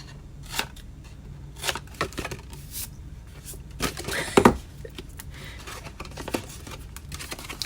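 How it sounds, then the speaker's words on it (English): Scissors make a few quick snips through paper for a slight angled trim on a snowman holiday box, each short cut separate with quiet pauses between them. "I'm going to just give these just a little slight angle trim"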